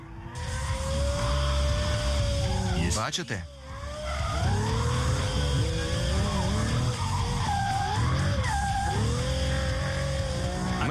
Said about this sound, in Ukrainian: Гальмую та повертаю.